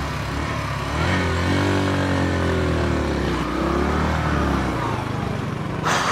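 A motorcycle engine on a mountain trip in Bukidnon runs close and loud, its tone rising and falling as it revs unevenly over several seconds.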